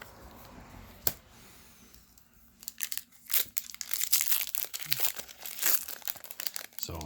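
A Theros Beyond Death card booster pack's foil wrapper is torn and crinkled open up close, in irregular sharp crackles and tearing bursts.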